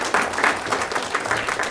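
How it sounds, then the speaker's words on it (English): Applause from an audience at a school board meeting, a steady patter of clapping hands sustained throughout at moderate loudness. "they deserve a round of applause for sure"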